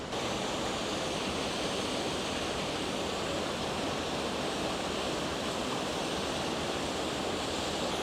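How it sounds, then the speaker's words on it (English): Continuous broadband rush of water pouring over a dam spillway, steady and even from start to finish, moderately distant, with no voices. "You may be able to hear water running over the dam spillway."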